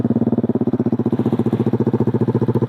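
A motorcycle fitted with an Eternal aftermarket exhaust idles steadily and close by, its loud, even engine pulses repeating rapidly with no throttle blips and no voices.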